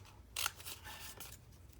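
A few quiet snips of zigzag scissors cutting magazine paper, one crisp cut followed by softer, shorter ones, close but faint, with no talk.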